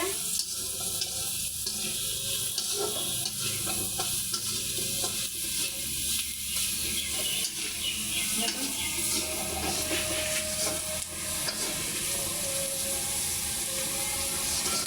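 Onion and potato frying with turmeric in a pan give a steady, close sizzle lasting the whole stretch, broken by the scrape and shuffle of stirring, with a faint voice now and then.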